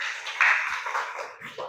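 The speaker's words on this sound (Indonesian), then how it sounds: "Tepuk tangan buat Baim" A short burst of applause from a school class in an Indonesian Islamic religious education lesson, as students clap for a classmate. The clapping is steady and fairly close, then tails off near the end.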